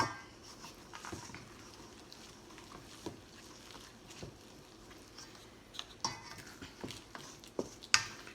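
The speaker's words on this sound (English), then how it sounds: "we just stir it until we have a homogeneous" Vegan banana-almond blondie dough being stirred in a bowl: soft, irregular scraping and occasional light clinks of a spoon against the bowl, fairly quiet and close, with a few sharper knocks toward the end.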